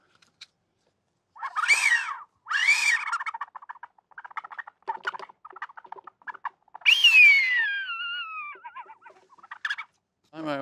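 Squeals and chattering squeaks from a stretched bicycle inner tube imitate a blackbird call, coming in several bursts, then a long falling whistle and a final sharp squeak, close by with no talk.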